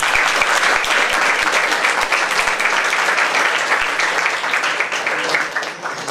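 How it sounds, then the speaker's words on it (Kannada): An audience at a school gathering in Gulbarga, celebrating a results achievement, breaks into loud, sustained applause. Dense clapping fills the whole stretch, with individual claps standing out and fading slightly at the end. "ಇದಕ್ಕೆ ಜೋರಾದ ಚಪ್ಪಾಳೆ ಮಾಡಿ"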